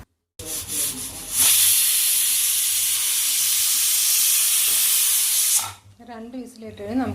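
Pressure cooker whistle releasing steam while cooking chicken fry: a loud, steady hiss runs for about four seconds, then cuts off abruptly as a person starts speaking nearby.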